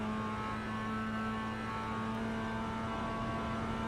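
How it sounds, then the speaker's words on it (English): A Mazda MX-5 Cup race car in iRacing held at full throttle, giving a steady, sustained engine drone with a strong constant tone throughout, fairly quiet and with no talk over it. "Just on the throttle, full throttle all the way down"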